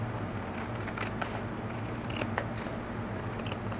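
A few soft, crisp snips as the edge of a hand-cut card base for a Christmas card is trimmed, spaced irregularly over a faint steady background hum.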